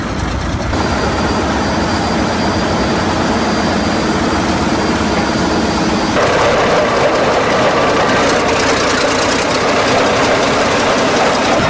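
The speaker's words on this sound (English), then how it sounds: "once a fellow dozer stepped in to jumpstart it, the legendary engine instantly roared back to life" A vintage D85E bulldozer engine rumbling loud and continuous after being jumpstarted, a dense droning roar that shifts character midway and carries on without pause.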